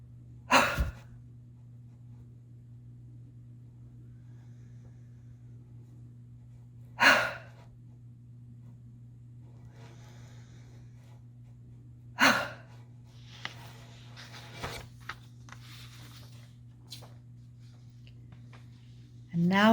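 Slow, deep breaths during a mindfulness exercise come as four separate loud inhales or exhales spaced several seconds apart over a steady low hum, with faint rustles in between.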